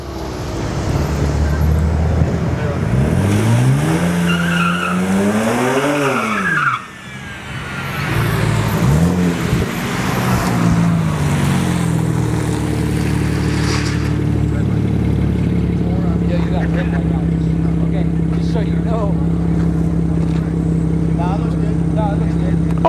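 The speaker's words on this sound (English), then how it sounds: "Oh, they're doing burnouts for lookout right now?" BMW 2 Series and VW Golf doing burnouts at a dragstrip test-and-tune session, engines revving in rising and falling sweeps then settling into a steady drone, with someone talking over it.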